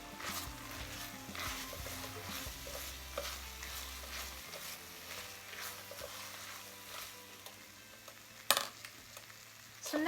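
Onions and minced garlic sizzle in a pan at a soft, steady level, with a few stirring scrapes and a sharp clink of a utensil near the end.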